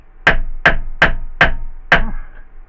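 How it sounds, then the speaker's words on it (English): A hammer drives a compressor piston and rod into place during a rebuild, landing five sharp metallic blows in an even rhythm, loud and close, each with a short ringing decay. "I don't like hammering, but we're going to give it a try."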